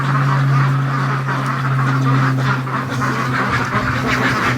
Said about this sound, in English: crazy ducks.